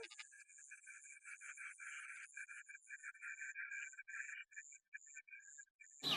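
Rice field frogs croak in a steady, faint chorus of rapid, rattling, trilling calls, mixed with insect-like chirps, distant and alone with no voices, until a sudden noise cuts in at the very end.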